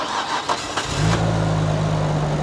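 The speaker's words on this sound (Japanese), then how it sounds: "じゃあエンジンかけてみますね。" A Nissan Skyline GT-R with an overhauled RB26DETT engine cranks briefly and fires, settling into a loud, steady, close idle.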